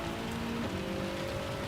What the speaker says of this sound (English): it's raining through the intermediate zone